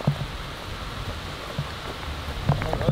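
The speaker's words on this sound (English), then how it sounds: "Tough rain messing everything up" Steady rain falling outdoors at a high school baseball practice, a dense, even hiss with scattered close drops pattering throughout, no voices.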